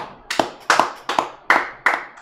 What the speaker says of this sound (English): Let's give a round of applause for Madison.